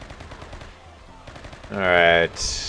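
A burst of automatic gunfire from the video game RimWorld rattles off as a fast rapid rhythm, then gives way to a loud sustained tonal blast and a brief high tail, with game effects throughout.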